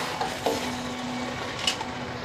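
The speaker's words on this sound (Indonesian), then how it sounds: "Diaduk-aduk." Food being stirred in a frying pan in a home kitchen while cooking Padang-style dishes: a soft sizzle underneath, with a few light scraping clinks of the utensil against the pan.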